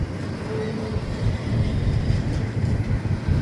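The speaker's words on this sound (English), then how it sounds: "Pacer Stack Train." A Pacer double-stack freight train rolls past near a desert ghost town on the Arizona–New Mexico border, a continuous low rumble and rattle of cars that swells slightly and holds steady throughout.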